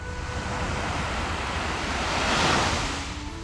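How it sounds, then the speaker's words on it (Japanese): Waves break on a sandy beach on Ise Bay in Japan, a continuous wash of surf that swells to a louder crest near the end, with wind buffeting the microphone and no voices. "いつもの家の近くの浜にやってきました"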